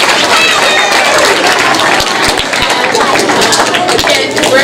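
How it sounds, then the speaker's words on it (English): Audience applause for young essay contest participants at a Martin Luther King Jr. remembrance event, a loud, dense wash of clapping throughout with crowd murmur and possible voices mixed in. "So give yourself a round of applause."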